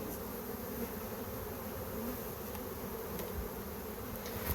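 A dense, steady buzz of many honeybees flying around an opened hive, loud and close, filling the air continuously with no talking.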